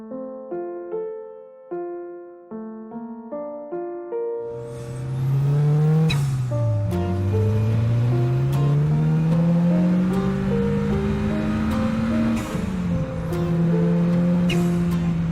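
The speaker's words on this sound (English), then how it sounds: "I want to take this thing out for a drive." A Ford Raptor truck's engine revs hard and then settles into a loud, sustained drone with rising and falling pitch as the truck pulls away, with no talk over it.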